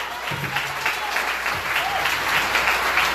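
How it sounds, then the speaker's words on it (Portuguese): A church congregation applauds during a worship service, a sustained wash of many hands clapping at fairly even loudness throughout, with a hint of voices mixed faintly underneath. "Aplauda Jesus."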